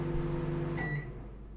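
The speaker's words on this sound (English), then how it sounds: "Actually, you can hear the fan." An old microwave oven's cooling fan hums steadily at close range, a low, even drone with a brief faint tone partway through and no voices.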